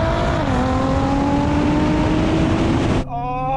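Three high-performance cars, a Porsche 911 Turbo, BMW M8 and Nissan GT-R, roar hard in a drag race on a wet track, their engines climbing loud and steady before a sudden gear-change drop near the end.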